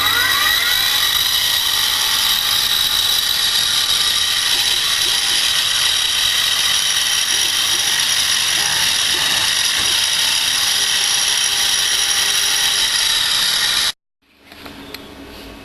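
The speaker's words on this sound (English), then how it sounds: "that's my 4 holes drilled" A bench drill bores four holes through a metal plate to build a servo mount for an iris, a steady loud high whine with grinding and rattling that runs continuously for about fourteen seconds, then stops abruptly into quiet.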